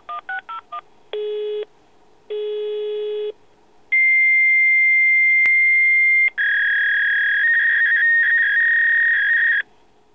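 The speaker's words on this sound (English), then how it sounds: "Listen to my fax machine." A fax machine recording plays back from an audio file on a Raspberry Pi webcam robot. Quick touch-tone dialing is followed by two separate beeps, then long loud piercing handshake tones and warbling data screech, with no speech.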